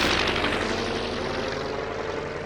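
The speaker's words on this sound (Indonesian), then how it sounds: "ia lantas menggunakan pesawat tersebut untuk mengejar Bruno si pencuri" Propeller airplane engine in a film, a loud continuous droning roar that stays close and steady throughout with no voices.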